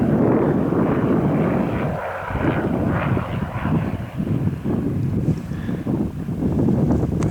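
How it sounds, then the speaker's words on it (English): A fixed-wing airplane landing at the Catalina Island airport gives a broad, continuous engine roar heard from a distance on the trail, mixed with wind noise on the microphone. "the way I can tell is there's a plane landing"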